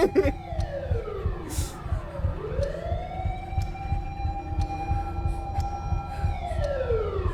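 A loud police siren in the video game Chilla's Art The Karaoke rises and falls in long wailing sweeps, joined by a second tone, over a steady low rumble; no voices.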